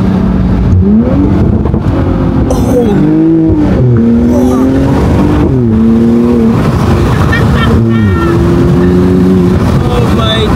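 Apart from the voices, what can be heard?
Mercedes SLC 43 AMG exhaust burbling and revving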